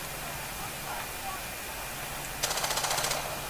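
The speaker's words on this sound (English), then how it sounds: "They're shooting through the wall." Rapid automatic gunfire punching through a wall in the video game Rainbow Six Siege, a short burst of sharp cracks in quick succession heard at moderate distance over a steady background hum.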